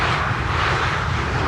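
A KLM passenger jet arriving from Birmingham at Schiphol airport, landing on runway 18R, gives a loud, steady broadband engine roar that stays even throughout, close by and with no voices over it.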